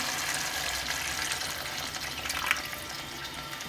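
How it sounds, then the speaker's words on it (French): Water poured into a cooking mixture for a felfla or denjel dish, a steady running hiss with a brief splashy peak near the middle, continuous and fairly close, no talking. "Maintenant, je vais ajouter un peu d'eau à la préparation."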